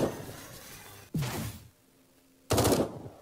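Gunfire in the Eden Star video game comes as two short, loud volleys of shots about a second and a half apart, close and crisp against a quiet background.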